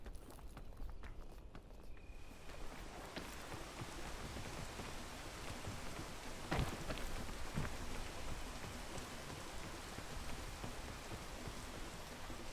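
Steady rain falls in a video game, a dense continuous hiss with scattered droplet ticks and a couple of sharper taps midway, fairly close and unbroken throughout, with no voices.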